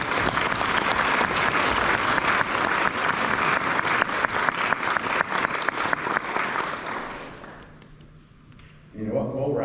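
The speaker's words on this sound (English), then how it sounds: "let's give ourselves some applause for all of us" A gala audience at a Christmas charity event claps in loud, sustained applause that slowly fades away, and a voice begins talking as the clapping dies down.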